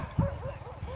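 A village dog barks as it walks off, giving a short, fairly faint yelp followed by softer whining tones at moderate distance, with no voices.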